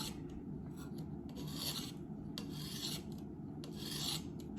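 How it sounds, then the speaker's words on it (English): A knife blade slides across a coarse stone on a Viper sharpening system in steady rasping passes, each stroke a close, gritty scrape in a repeating rhythm, with no speech. "you do a few passes with the coarse, and you can go on to the, obviously the smoother and smoother till you get to the polishing stones"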